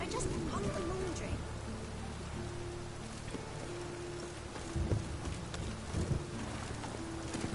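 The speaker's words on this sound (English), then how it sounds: "A storm, damn it." Steady rain pours throughout a Witcher 3 thunderstorm, with low rumbling swells near the middle and end suggesting distant thunder, and a voice speaking over the downpour.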